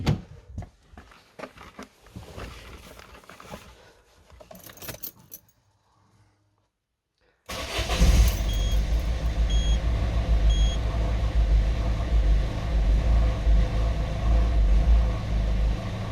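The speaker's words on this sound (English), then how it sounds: "now when you start the car" Keys jangle and a Citroen Berlingo Multispace is switched on; after a short silence the engine catches and settles into a steady, loud low idle heard up close, joined by a few faint chimes.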